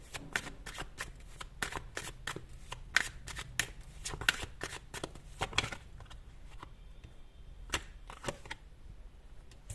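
Tarot cards shuffled in quick, crisp riffling bursts, a steady run of papery flicks up close with no voice over them.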